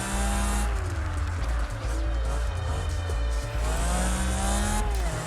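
A racing car in Project Gotham Racing 3 roars at a steady high pitch throughout, its revs rising and falling as it shifts, with tires squealing in long whines over the engine. A voice talks over it.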